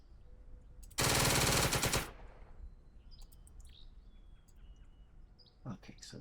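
Enemy tank gunfire in the WWII strategy game Second Front, heard as one loud, sustained burst of rapid firing lasting about a second, then fading into quiet ambience with faint bird chirps.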